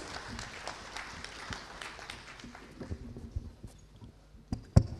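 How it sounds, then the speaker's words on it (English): Applause from a seated audience at a business panel session greeting three gentlemen, a soft, fairly distant patter of clapping that thins out toward the end, with a couple of louder knocks near the close. "let's give our gentlemen, all three gentlemen, a big warm round of applause"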